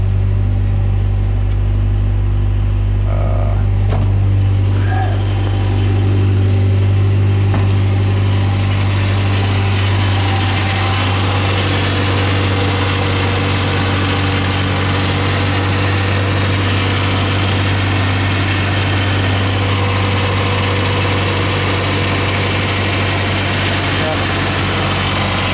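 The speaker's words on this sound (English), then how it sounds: "It does start up about every time pretty easily." A 1995 Geo Tracker LSi engine idles steadily with a low, even hum and vibration throughout, a few faint clicks near the start, running on alone.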